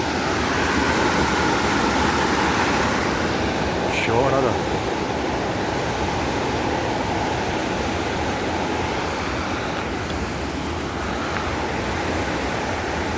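A mountain stream in Bukhansan National Park's Jeongneung valley, swollen by heavy monsoon rain, rushes in a steady, close, broadband roar that never lets up, with a faint voice briefly audible.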